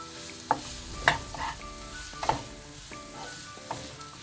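Onions with chopped green chilies fry in a pan for a Kerala-style mutton curry: a soft continuous sizzle with a few distinct metallic spoon clinks and scrapes spaced about a second apart.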